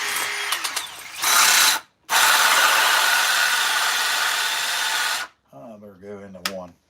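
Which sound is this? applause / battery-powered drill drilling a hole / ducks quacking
battery-powered drill drilling a hole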